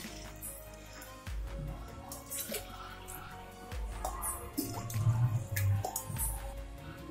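Water splashing and pouring into a metal pot on a stove in a few uneven bursts, about three tumblers' worth, close and fairly quiet, with faint clinks.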